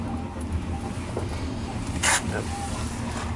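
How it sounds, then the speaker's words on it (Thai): Steady low rumble and hiss of an overnight Bangkok–Chiang Mai train running on rails, heard from a second-class upper sleeper berth, continuous throughout, with a brief sharp burst partway through. "ที่ได้ยินเสียงอยู่นี้ก็คือเสียงรถไฟวิ่งนะฮะ"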